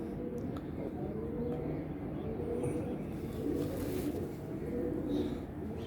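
Several pigeons coo in low, overlapping murmurs at a pigeon-keeping loft, a steady soft cooing bed running throughout with no speech over it.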